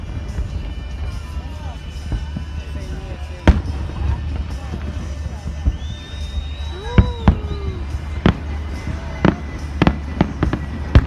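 Fourth of July fireworks bursting outdoors: a steady rumble broken by scattered sharp bangs, crackles and rising whistles, with voices chattering in the background.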